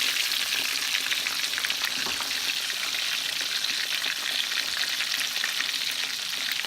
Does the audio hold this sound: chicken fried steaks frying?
yes